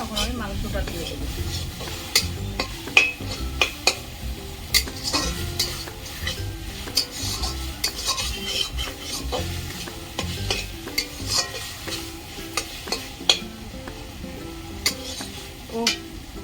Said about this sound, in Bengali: আমার এই মশলাটা সুন্দর করে কষাতে হবে, যতক্ষণ তেল না থাকে